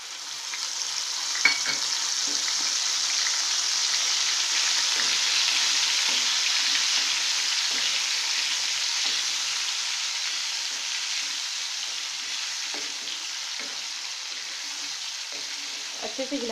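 Onion paste fries in oil over a medium flame for a potato and chickpea curry, making a continuous soft hiss that swells slightly, with faint occasional clinks and taps from stirring nearby.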